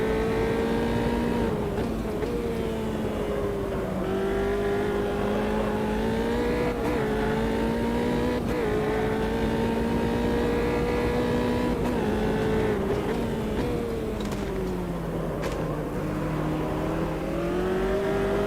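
Race cars in the Automobilista 2 racing game, including Formula Vee cars, drive in a multiclass race: a loud, steady engine drone with rising and falling pitch as the car accelerates and shifts gears, continuous throughout.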